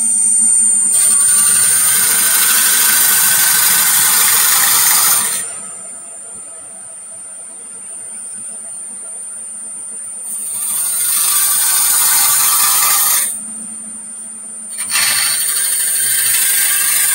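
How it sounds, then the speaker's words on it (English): A teardrop scraper shaving wood on a spinning lathe, a loud steady scraping hiss in two long bursts separated by a quieter pause with only the lathe's hum. "I'm going to turn my teardrop scraper a little bit, flip it around to the other side so that I can scrape coming back this"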